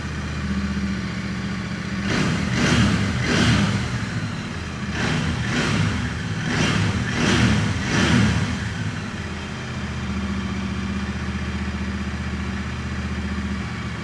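A Kawasaki Z900 motorcycle engine idles steadily, then revs up several times in quick bursts before settling back to a low, even idle.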